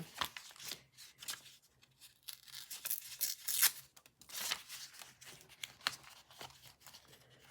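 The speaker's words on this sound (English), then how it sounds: "So I just cut it here and then just kind of trim that part off right there." Paper is trimmed for a handmade junk journal, with quiet, irregular snips, crinkles and rustling handling noises close by.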